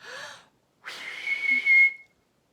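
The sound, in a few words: whistle imitating a boy whistling for his dog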